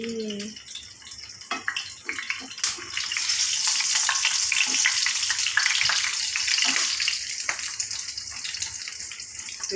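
Two eggs fry in a hot pan with a loud, steady sizzle that swells after a few scraping and stirring clicks at the start and continues close and bright throughout.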